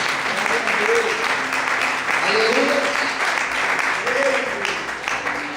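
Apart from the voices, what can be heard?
church congregation applauding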